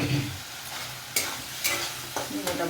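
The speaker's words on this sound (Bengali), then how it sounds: "তেল ভাজতে শুরু হয়ে গেছে।" Vegetables for a banana-flower curry fry in oil with a steady sizzle, punctuated by a few sharp spatula scrapes against the pan, close and alone.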